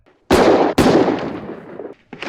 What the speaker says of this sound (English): they're obviously real gunshots, but the recording of them very accurate.